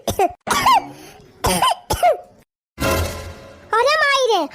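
A character in an Awadhi family comedy cartoon lets out several loud, harsh coughs in quick bursts, with strained, voiced throat sounds between them.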